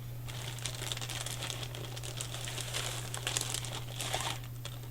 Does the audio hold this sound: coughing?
no